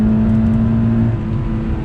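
A 2019 Subaru BRZ Series Gray's engine pulls in second gear with a steady, close droning hum that holds even and then eases slightly near the end, with no talking over it.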